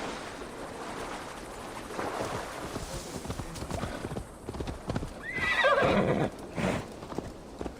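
Horse galloping in Assassin's Creed Valhalla, steady hoofbeats clip-clopping close throughout with a whinny near the end, over wind and water ambience; someone talks briefly.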